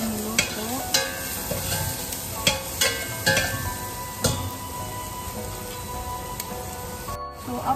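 Garlic and onion sautéing in a pan, a steady close sizzle broken by repeated scraping stirs from a utensil at irregular intervals.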